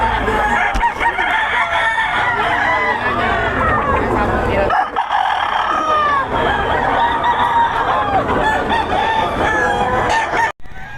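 Gamecocks brought to a Pampanga chicken sale cluck and crow loudly and nearly nonstop, several birds overlapping close by with a faint murmur of people in the background.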